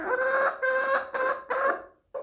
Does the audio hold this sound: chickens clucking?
yes